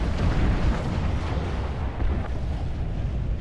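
Explosions from a heavy attack in the strategy game Supreme Commander, a dense, continuous rumbling barrage of blasts, loud and sustained with no voices over it.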